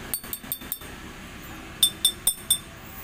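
Air gun pellets from a fully upgraded MP900 striking a thick glass bottle target, two quick sets of four sharp glassy clinks in steady rhythm, the second set louder and ringing, over a low outdoor hum.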